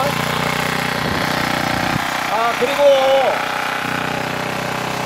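A small lawn mower engine idles after being started, a steady low mechanical hum running throughout while someone talks over it in the foreground.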